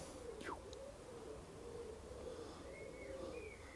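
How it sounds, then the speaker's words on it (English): Pigeons on a garden lawn give faint, soft cooing calls against quiet outdoor background noise. "I'm out in my garden today, so you might hear pigeons flying around"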